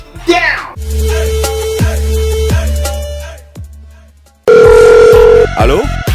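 A telephone rings loudly in bursts of a bright repeating bell tone, with a stretch of music and other sounds in between, before the final ring cuts off sharply.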